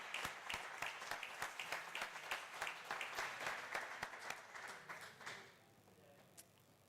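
An audience applauds in a room, a dense patter of many hands clapping for about five seconds before tapering off into quiet with a last stray clap.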